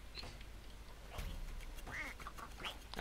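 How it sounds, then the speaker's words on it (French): A cartoonish duck quacking in the video game Rayman Legends after the player character is turned into a duck, a few short nasal quacks over a faint game background with no talk. "Encore transformé en canard."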